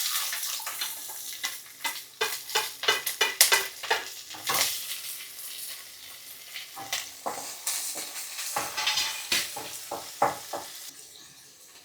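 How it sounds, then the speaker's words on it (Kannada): Onions hitting hot oil in a pan set off a bright, busy sizzle with frequent stirring clatter and utensil knocks, loud and close, easing toward the end, with no talking. "ಈಗ ಹಂಗೆ ಈರುಳ್ಳಿನ ಹಾಕ್ಬಿಟ್ರೆ"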